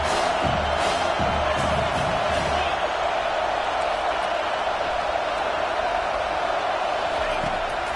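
Stadium crowd in an NCAA 25 college football video game, Penn State, roaring and cheering steadily at a big moment, a dense sustained wash of noise with occasional louder swells throughout.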